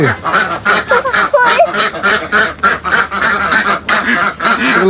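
Ducks or geese quack and honk close by in a busy flock, loud overlapping calls repeating in quick irregular bursts.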